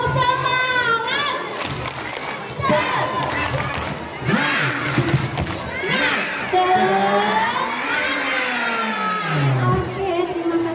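A classroom group performs the 'tepuk semangat' spirit clapping chant, with energetic voices chanting and shouting together close by, mixed with claps, throughout.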